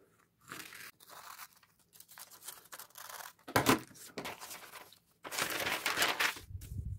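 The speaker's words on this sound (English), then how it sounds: "all I have to do is cut that out" A bag pattern being cut out with scissors, a series of short crisp snips and paper crunches close by, irregular and fairly quiet, with pauses between cuts.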